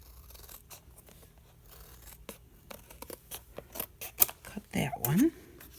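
Scissors snip paper for a journal collage, a run of small close crisp cuts building to a few louder snips near the end, with soft handling rustle and quiet room tone.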